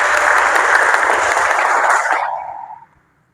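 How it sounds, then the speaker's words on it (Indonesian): A group of students in a pencak silat lesson claps together, a loud close burst of hand clapping that holds for about two seconds and then quickly dies away into silence. "tepuk tangan terlebih dahulu"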